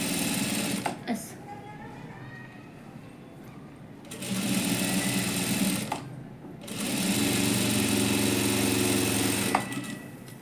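A sewing machine stitches an ari-work blouse panel together with its lining, running in steady mechanical bursts of several seconds each, separated by short pauses, close and fairly loud.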